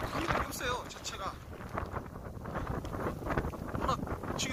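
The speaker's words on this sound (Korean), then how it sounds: "바람 어마어마하네요." Strong wind buffeting the microphone on an exposed mountain trail during a rainy solo hike on Mudeungsan, a steady loud roar with gusts under close talking.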